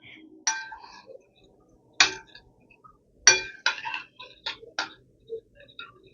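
A spoon stirs half a cup of semolina with a cup of very hot water in a bowl, giving about eight irregular, sharp clinks against the bowl, close and fairly quiet, with brief soft scraping between them.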